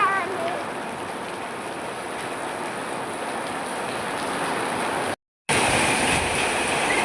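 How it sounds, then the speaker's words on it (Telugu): Heavy rain falls steadily in a dense, loud hiss that continues unbroken apart from one brief dropout; no distinct thunderclap stands out. "స్టార్ట్ అయింది వర్షం అయితే. ఇప్పుడంతలా ఆగేటట్లేదు"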